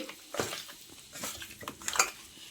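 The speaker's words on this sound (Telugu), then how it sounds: "పసుపు 1 స్పూను, కారం 1 స్పూను వేసుకొని అన్నీ బాగా కలుపుకోవాలండి." Chicken pieces being mixed by hand in a bowl with salt, turmeric and chilli powder, heard as scattered clinks and scrapes of a spoon and bowl with soft stirring between them, near and moderately quiet with no talking.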